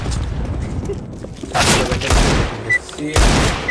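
A grenade explodes in Counter-Strike: Global Offensive, giving a loud booming blast followed by a second burst, with gunfire-like cracks and faint game chatter around it.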